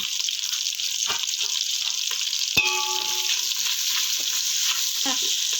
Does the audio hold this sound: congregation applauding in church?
no